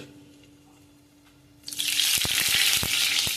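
Food dropped into hot oil in a pan, a quiet start giving way to a sudden loud, steady frying hiss with crackling pops, no talking.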